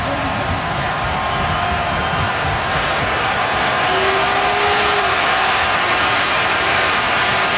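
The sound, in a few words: stadium crowd cheering at football game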